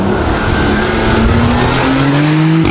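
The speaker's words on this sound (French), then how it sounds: "Vous allez voir tout de suite une accélération." A Porsche Cayenne GTS V6 of 440 hp with a sport exhaust accelerates hard, its loud engine note climbing steadily in pitch for nearly three seconds with no one talking.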